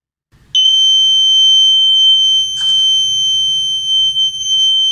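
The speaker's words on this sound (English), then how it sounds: "whenever baby bed wet or urination, then buzzer will be on" Buzzer alarm on an IoT smart baby cradle, triggered when the bed gets wet, sounds as a loud continuous high-pitched electronic tone that starts abruptly and holds steady, with a brief rustle partway through.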